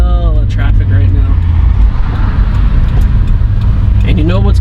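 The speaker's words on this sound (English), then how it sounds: "Traffic right now." Road traffic rolls past with a heavy, continuous low rumble as cars drive by close and loud. Someone talks over the steady engine and tyre noise.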